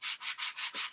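A sanding block rubs over a debossed stamping die in about five quick, even back-and-forth strokes, producing a soft, close-up scratchy hiss with no talking.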